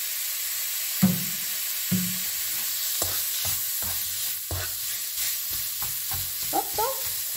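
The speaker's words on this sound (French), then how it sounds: "on continue d'écraser notre viande et la faire revenir" Ground meat sizzles steadily in a frying pan while a utensil mashes and stirs it, giving a series of close scraping knocks about once a second over the constant fry hiss, with no talking.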